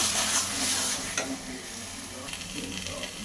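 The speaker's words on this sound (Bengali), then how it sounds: "এবার মটর ও আলুটাকে মশলার সঙ্গে কিছুক্ষণ কষিয়ে নেব।" Boiled peas and potatoes stir-frying with spices in a pan for ghugni, a soft steady sizzle with a couple of stirring scrapes, close and fairly quiet, no voices.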